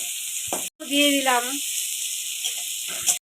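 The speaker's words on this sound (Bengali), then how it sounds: "এখন পেঁয়াজটা দিয়ে দিলাম, তার সাথে লঙ্কা দিলাম" Chopped onion and chillies frying in hot oil over cumin and chilli, part of a Bengali air fish curry, give a steady close sizzle with stirring while a voice talks over much of it.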